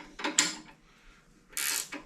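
Frame neck cups being tightened down on a 1981 Harley-Davidson FXS-80 Lowrider frame, two short metallic clicking, scraping bursts, close and quiet, separated by a brief pause.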